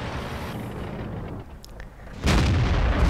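Artillery shell blast in World of Tanks: a booming impact lands near the end after a quieter stretch of battle ambience, loud and close, with no talk.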